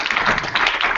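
An audience claps together in a short burst, a dense, steady patter of many hands at close range, with no speech.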